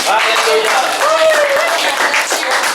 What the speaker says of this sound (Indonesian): Tepuk tangan untuk kuning.